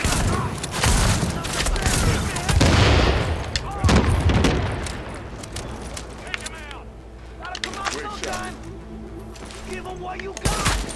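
Heavy gunfire in The Division, a near, dense fusillade of shots and booms through the first few seconds, thinning later into scattered cracks and a final burst, with voices talking over the combat.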